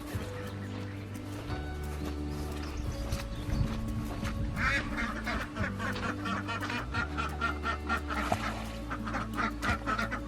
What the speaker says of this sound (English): The ducks will be swimming in that in probably 5 minutes.